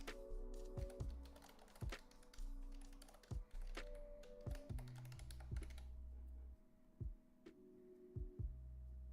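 Computer keyboard typing, quick bursts of close, crisp key clicks with a few heavier thumps and short pauses between runs, over a faint background hum.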